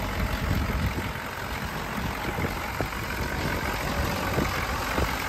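A 1981 Chevy Caprice Landau Coupe diesel engine idles with the hood open, a loud steady clattering rumble heard close up with faint ticking knocks and no talking.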